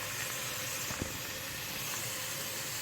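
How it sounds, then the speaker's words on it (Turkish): Keşkek with chicken and onions simmers in a pot, giving a steady, soft hiss of steam and low bubbling that continues evenly throughout without any talking. "yavaş yavaş kaynayacak"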